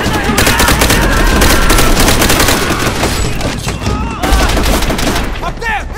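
Sustained machine-gun fire in the World at War video game, a loud continuous chatter of rapid shots that never lets up, with a faint shouted voice woven into the din.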